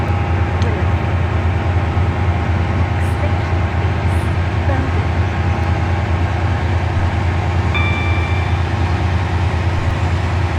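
A heavy, steady low rumble of a train running continuously in the video game SCR, with a faint high whine appearing briefly near the end.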